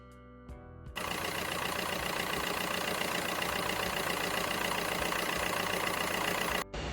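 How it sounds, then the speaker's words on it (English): A truck engine with its muffler blown open and fallen off runs loud and raw, a dense, steady roar that starts abruptly and holds with little variation before briefly dropping near the end. "This customer was driving along when their muffler blew open and fell off their truck."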